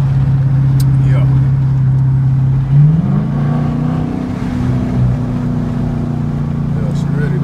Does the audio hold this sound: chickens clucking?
no